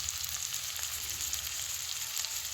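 Garlic, ginger and green chili paste fry in a pan while being stirred, giving a soft, steady sizzle with a faint crackle and no voices.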